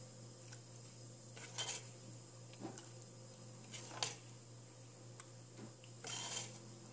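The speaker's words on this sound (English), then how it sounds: "Now, it's time to serve. Let me take it in a" Spinach soup is ladled into a soup bowl, with faint, sparse clinks of ladle and utensils against the dish at scattered moments over a quiet, humming background.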